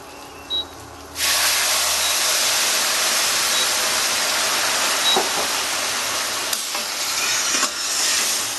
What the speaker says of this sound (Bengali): গরম জল দিয়ে দেবো